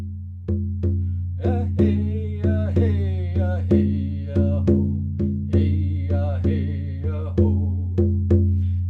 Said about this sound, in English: So this is a Native American frame drum.